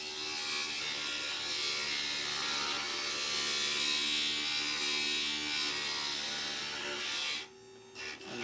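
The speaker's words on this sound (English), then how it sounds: "it also extends the life of that grinder head" A stained glass grinder head shaving down a glass piece, a high, bright whirring grind that runs steadily and close, then cuts out abruptly near the end with a few brief scrapes.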